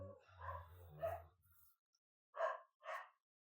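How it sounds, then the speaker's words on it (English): Several loud barks from a dog close by, a burst of barking followed by a pause and two more sharp single barks, with no talking. "I had to go investigate why my dog was barking."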